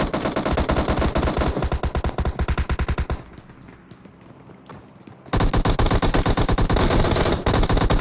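Loud, close automatic gunfire from a competitive scrim match in a shooter video game rattles in rapid bursts, drops to a quieter lull for about two seconds, then resumes as sustained rapid fire.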